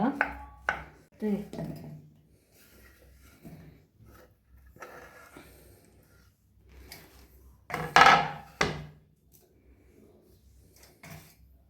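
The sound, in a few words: chopping banana into small pieces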